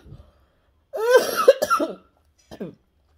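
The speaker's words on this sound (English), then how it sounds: "I cough it out." A person coughs hard in a rough fit lasting about a second, then gives one shorter cough after a pause, after a piece of shrimp went down the wrong way.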